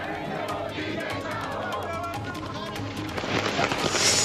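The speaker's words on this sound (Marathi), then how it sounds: "ढोल ताशी वाजवत फटाके फोडून" Rapid firecracker bursts crackle and pop in quick succession over a noisy celebrating crowd with drums, growing louder and denser toward the end.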